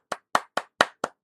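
Several hands clap in a quick, evenly spaced run of about six sharp claps, close and fairly loud, with no voices over them; the claps follow a political news item about Italy's new prime minister.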